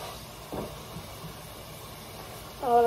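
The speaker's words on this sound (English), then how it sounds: "Gonna flat it down a little bit. Hear that sizzle, man." A cheeseburger patty being pressed flat as it cooks gives a steady, soft sizzling hiss throughout, with a short burst of voice near the end.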